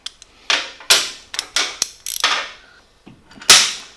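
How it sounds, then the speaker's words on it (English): A socket wrench works a bolt on a Honda Grom motorcycle, giving loud, close bursts of ratcheting clicks in quick irregular strokes with short pauses between them. "so we'll just loosen that guy, get a socket"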